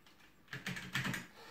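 Typing on a computer keyboard set to stay quiet, a short burst of soft, quick keystrokes close by after a near-silent start.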